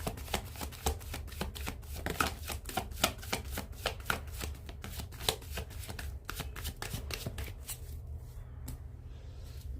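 Tarot cards being shuffled by hand during a reading, a steady run of crisp riffling flicks close up with no talk, tailing off into quieter shuffling near the end.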